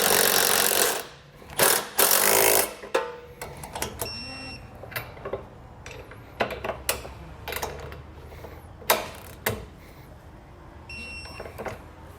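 A 19mm socket and wrench tighten hitch bolts on a 2020 Subaru Outback wagon, with a burst of rapid ratcheting followed by short, scattered clicks and metallic taps, close and intermittent.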